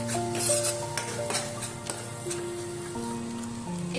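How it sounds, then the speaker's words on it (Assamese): Baingan bharta being stirred with salt in a pan, with soft scraping and clicking of the spoon over a low sizzle and a steady background hum, close and moderately quiet. "নিমখখিনি দি ভালদৰে লৰাই দিম"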